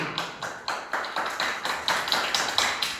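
Hands clapping close by in a fairly quiet room, a steady run of about a dozen sharp, evenly spaced claps with no voices.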